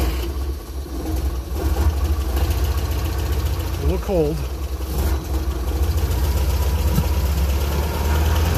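A Pinzgauer engine with its hood off cranks and settles into a rough, loud idle that runs steadily throughout, with a brief voice speaking over it.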